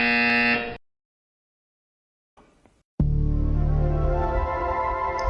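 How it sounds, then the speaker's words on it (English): A loud electronic buzzer blares with a harsh, steady tone, cuts off into silence, then sounds again after a short pause and holds to the end. "You will hear a buzzer."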